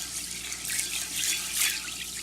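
Dry beans get a rinse under a running kitchen tap, a steady close splashing and gurgling of water for a couple of seconds with no one talking.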